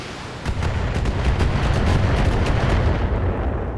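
Turret fire striking a mech in the game Battletech: a rumbling barrage of heavy impacts and booms, loud and sustained for a few seconds, with no talking.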